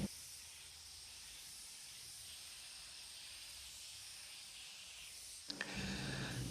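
Spray gun laying a medium coat of sealer over primer during auto body repair, a steady, close airy hiss running evenly for over five seconds, then a brief clatter and shifting noise near the end.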